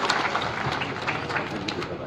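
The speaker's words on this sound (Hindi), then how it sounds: "जोरदार तालियों से इनका स्वागत करेंगे।" Crowd at a community association convention applauds to welcome a speaker to the stage, a short burst of moderately loud, steady clapping.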